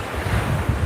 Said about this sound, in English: the waves usually don't break that far out or curl over that much